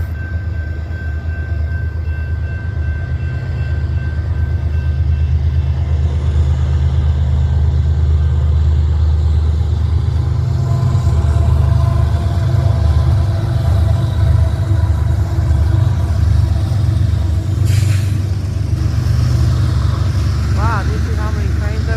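Several trains with multiple locomotives roll past a track at night, giving a loud, steady low rumble and rail noise that lasts throughout, with some faint background sounds.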